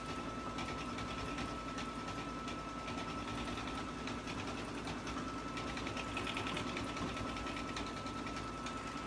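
An embroidery machine stitching quarter-inch lettering hums with a steady, rapid mechanical stitching rhythm that carries on unbroken throughout, close by and with no voices.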